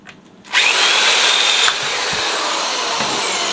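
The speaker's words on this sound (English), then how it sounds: "I'm going to drill a hole through the metal" A power drill starts up loudly and grinds steadily through the metal of an office chair, its high whine holding for several seconds before dropping slightly in pitch and level.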